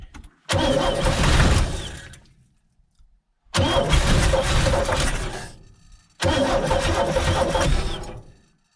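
A 1965 Chevy G10 van that sat for 25 years, carburetor just reinstalled, cranking and catching three times in a row, each burst of engine noise loud and close for a couple of seconds before cutting out.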